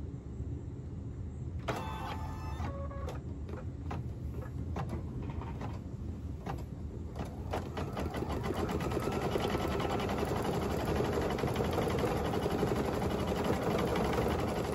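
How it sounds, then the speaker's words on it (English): An embroidery machine stitches a design onto a pillow made from shirts, giving a steady, even mechanical whir and rattle that hums on continuously, with a few sharp beeps or clicks near the start. "It's going to take approximately 70 minutes to stitch this design out."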